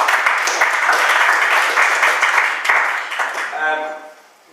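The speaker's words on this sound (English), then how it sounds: "So round of applause, Helen." A group applauds at a triathlon injury-prevention talk, a dense burst of clapping that fades out while a voice speaks at the end.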